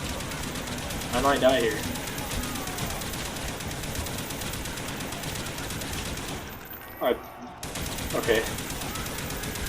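HK submachine gun firing in Black Ops Zombies on Nacht Der Untoten, a steady stream of rapid automatic shots running throughout under game noise, with someone talking briefly over it.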